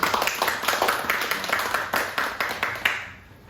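A Korean church congregation claps together during a Sunday worship service. The claps are quick and rhythmic, filling the room with a bright, close sound that tapers off and fades near the end.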